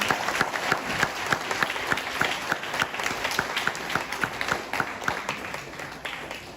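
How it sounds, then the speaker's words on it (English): An audience at a Samarpan 2025 school event gives sustained applause. Dense, steady clapping continues throughout at moderate distance, with a few louder individual claps standing out. "Please give them another round of applause."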